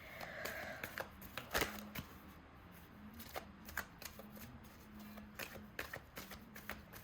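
Tarot cards being shuffled by hand in a quiet room, with soft irregular riffles and taps that come and go faintly, with no talking.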